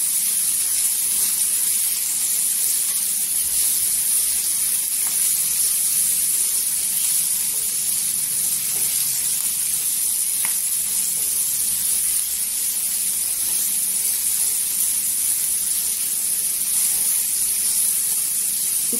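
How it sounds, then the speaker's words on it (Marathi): Okra sautés in hot oil in a pan, giving a steady, continuous hiss and sizzle that stays even and fairly quiet throughout, with no talking. "छान अशी भेंडीला तेलामध्ये परतून घ्यायची"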